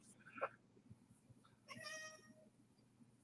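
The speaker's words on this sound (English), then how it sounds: "I hear a kitty in the background" A house cat meows twice in the background, a short faint mew followed by a longer, drawn-out one, quiet under a low indoor hum.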